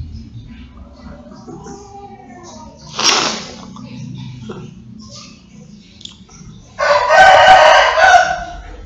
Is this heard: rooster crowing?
yes